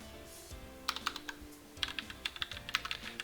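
Typing on a computer keyboard, quick irregular bursts of crisp key clicks, near and fairly quiet over a faint background hum.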